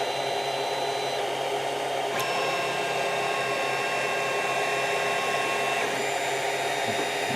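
A Creality CR-10 3D printer runs with its heated bed and hot nozzle, producing a constant loud whirring fan drone that stays even from start to finish.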